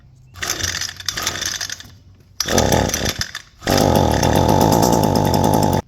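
Echo SRM 225 string trimmer engine sputtering through a couple of rough starts, briefly cutting out, then catching and revving to a loud steady high-pitched whine up close.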